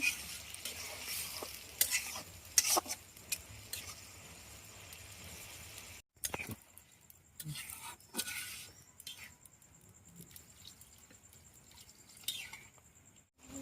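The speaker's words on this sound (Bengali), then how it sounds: "তার একটু পানি দিয়ে আলুগুলো ভালোভাবে কষে নেব" Potatoes sauté in a pan with a little water, heard as faint, sporadic stirring scrapes and soft sizzling, with a few sharper clatters and quiet gaps between them.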